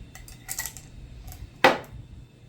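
Glass marbles swirled inside a jar to coat them in ink give a few light, scattered clinks and then one sharper, louder rattling knock that fades quickly, close and with no talking.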